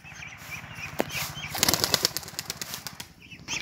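Pigeons flap their wings at a farm where ducks are kept below and pigeons above, a loud, continuous flurry of close wingbeats with faint calls.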